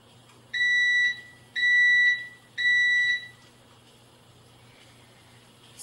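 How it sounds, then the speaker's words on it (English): An electric pressure cooker signals that cooking is done with three sustained electronic beeps in a steady, evenly spaced pattern, each about half a second long, clear and close over a quiet low hum, then silence. "So you'll hear the machine beep to indicate that it's done cooking"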